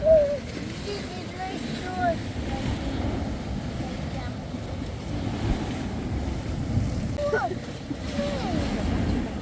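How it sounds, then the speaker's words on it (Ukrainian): Waves of the Adriatic Sea wash steadily along a shore at dinner by the water while a boat passes at a distance, with wind rumbling and people talking quietly over the surf. "А які хвилі, да?"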